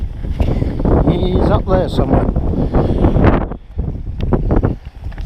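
Strong wind buffets the microphone with heavy low rumbling while someone speaks over it outdoors, walking up a valley toward The Cheviot in Northumberland.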